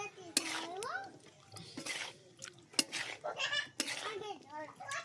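A spoon scrapes and clinks against a pan as dates roast in ghee, giving sharp metallic knocks at irregular intervals beneath a person talking.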